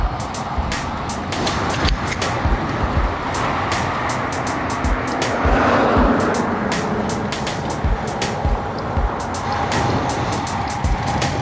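Cars passing on a road heard from a group bicycle ride, a steady loud traffic rumble that swells in the middle, with frequent sharp clicks and wind noise over it.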